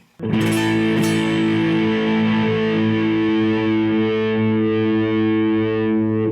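A single sustained electric guitar chord through a Boss Blues Driver BD-2 distortion pedal, loud and buzzing, ringing out and slowly fading without any talking.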